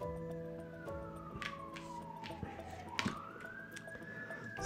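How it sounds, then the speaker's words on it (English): Wailing emergency siren sweeping down and back up in pitch, fairly distant and faint, over the low hum of a busy city street with scattered clicks and background noise. "Sorry, put the siren there. It's a busy city here."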